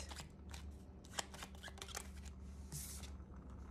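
Tarot cards being shuffled in a steady, continuous riffle and slide with a few sharper snaps, close and moderately quiet, no talking over it.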